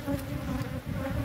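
Bees swarm around a honey-filled comb on a rocky cliff face, giving a steady, fairly soft buzz that drones on without a break.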